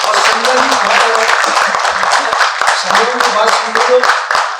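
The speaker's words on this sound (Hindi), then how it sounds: "ताली मिलना चाहिए" An audience at a Hindi poetry gathering bursts into sustained applause, dense rapid clapping from many hands, close and loud, with voices calling out over it.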